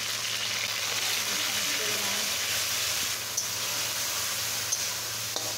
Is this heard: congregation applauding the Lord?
no